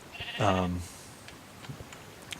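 A single sheep bleat from a Minecraft farm, a clear wavering cry lasting about half a second, followed by faint soft game sounds.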